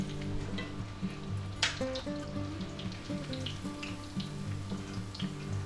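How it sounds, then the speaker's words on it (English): Thin crunchy beef milanesa cutlets fry in a pan, a steady moderate sizzle with a brief louder crackle and faint clinks from turning the meat. "this side seems to be getting done more than the other, so let's try to flip them over this way"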